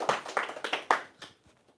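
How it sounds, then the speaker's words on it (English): A small audience gives a guest a brief round of applause at a podcast taping, a few close, sharp claps in quick bursts that fade out within about a second and a half. "Let's give this brother a round of applause"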